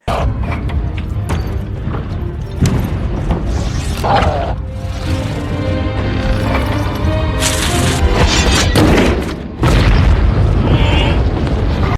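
A bomb explosion in the battle scenes of the 2016 film The Great Wall, heard as a loud continuous rumbling mix of booms, crashes and debris with a heavy dense roar.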